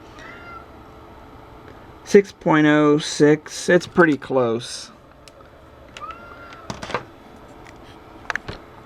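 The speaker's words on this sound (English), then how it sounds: "We got a hungry kitty." A hungry cat meows several times in quick succession, loud and close in a workshop, followed by someone speaking briefly and some light clicking sounds.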